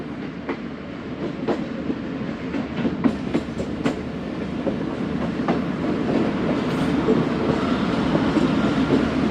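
Tezgam express train, running late, rumbles past on the track with steady rolling noise and scattered clickety-clack wheel clicks, growing slightly louder and fuller toward the end.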